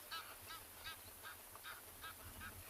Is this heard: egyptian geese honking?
yes